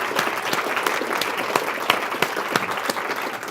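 A group claps together at a town-hall style team exercise, with steady dense applause and a few sharper individual claps standing out.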